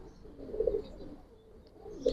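Pigeons, black-feathered Bagha and Silver Giribaz birds, give soft low coos, one fuller murmur midway and another starting at the end, faint against quiet background noise.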